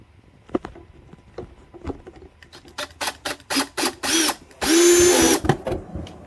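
A power drill tightens fasteners on underglow lights fitted to a Ryker, heard as short bursts of whirring that lengthen into one sustained run near the end, close by, with no talking.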